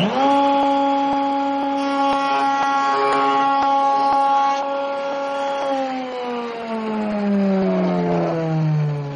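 A handheld wood router is switched on and runs at a steady high-pitched whine, loud and close, with the pitch sagging slightly toward the end as it settles.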